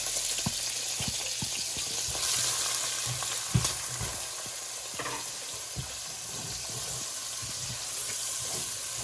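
Chopped vegetables fry in a pan for cilantro-chorizo rice, an even close sizzle running throughout with frequent sharp taps and scrapes of a utensil against the pan.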